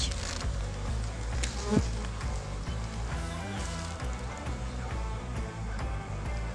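Honeybees buzz densely around an open beehive, a close, continuous swarm drone with individual bees passing near, with no speech.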